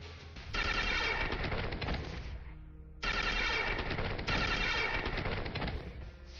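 Bursts of rapid-fire gunfire in Star Traders: Frontiers ship combat during a bombard attack: two dense, loud, rattling volleys, each lasting a couple of seconds and followed by a short fading tail, with no voices.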